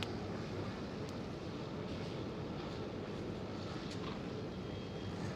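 A DHL cargo aircraft bound for Leipzig at Amsterdam Schiphol gives off a faint, distant, steady engine rumble with a broad hiss, unbroken and without voices.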